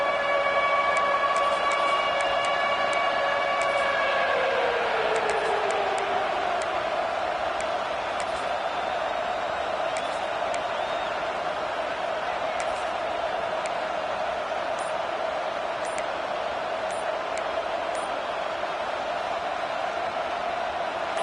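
A roaring college football crowd in a Georgia Tech versus Florida game presses on third down, a sustained loud wash of noise with a siren-like rising tone early that fades out, the din continuing steadily to the end.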